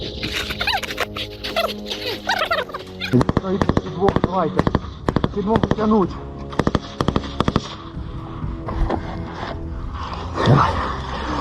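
Rapid bursts of small-arms gunfire crackle in sharp clustered volleys on a battlefield while troops suppress Russian soldiers, with voices talking and shouting over and between the shots.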